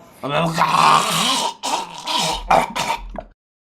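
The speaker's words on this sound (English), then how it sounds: "Cough it out, hen. Cough it out." A person clears their throat and coughs in rough, rasping bursts, close and fairly loud.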